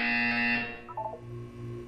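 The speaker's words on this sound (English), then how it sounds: "You will hear a buzzer." A loud, steady electronic buzzer in the game Portal sounds for about half a second, then cuts off into quieter ambient game tones.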